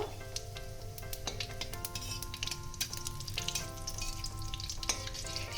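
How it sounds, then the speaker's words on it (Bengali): Black cumin, cumin and dried chilli fry in mustard oil, a continuous close crackle with scattered sharp pops and a faint steady tone underneath, no one speaking. "এবার ফোড়নটা আমি একটু ভেজে নেব।"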